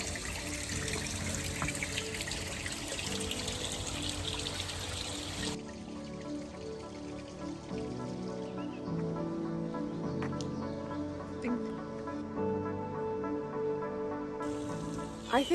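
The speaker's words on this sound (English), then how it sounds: "there's something about the sound of the water that is calming me so much right now" Water flowing at a small trickle near a waterfall at Niagara in June, a steady splashing rush, close and fairly faint, with a brief change in texture partway through and no talk.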